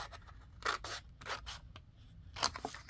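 Scissors snip through a paper sheet along score lines, several quick crisp cuts close by with short pauses between them, quiet and alone.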